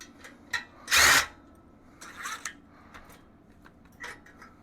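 A power tool takes off a lower mount bolt on a Honda Shadow Sabre 1100 motorcycle: one loud, close whirring burst, then several shorter, fainter bursts and light metallic clinks, with no speech.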